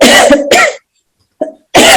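A person coughing from throat irritation, two harsh close bursts, then a brief pause, a small throat sound and another loud cough, with no talk.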